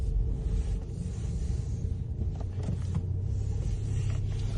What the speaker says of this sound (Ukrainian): Двигунчик працює рівненько.